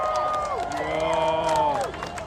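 Outdoor crowd at a No Kings protest rally in Dallas, Texas cheering and clapping for volunteers, a steady wash of applause and shouts with whistles or voices rising and falling throughout.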